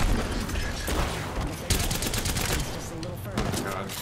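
Gunfire in Apex Legends: rapid, continuous automatic shots crackle densely over a steady din, with a few heavier bursts punctuating the stream.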